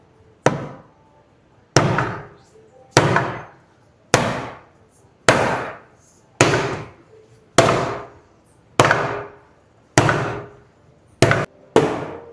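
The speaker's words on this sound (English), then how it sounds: "my wife said that she wanted to swing the hammer" A hammer strikes a car transmission adapter plate on a Toyota 2JZ engine and 8HP gearbox swap in an FRS, with about ten sharp, loud metallic blows evenly spaced roughly a second apart, the last two close together.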